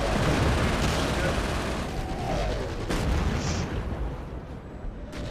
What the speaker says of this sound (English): I'm sniping the machine gunners